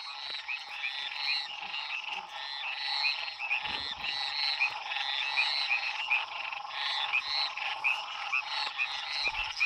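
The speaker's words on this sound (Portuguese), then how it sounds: "É sapo, gente, ó." Frogs croak densely and continuously beside a lagoon before dawn in the rain, a loud overlapping chorus of rapid rhythmic calls filling the whole stretch without any talking.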